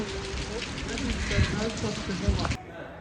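Steady rain falling outdoors on an ATV job site, a dense hiss of drops on surfaces throughout, with a person talking over it before the sound cuts off abruptly near the end.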